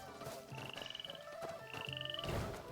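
In a video game, a character imitates a frog with a fast, rhythmic croaking trill in two short bursts, set against a quiet layer of music and ambient game sound.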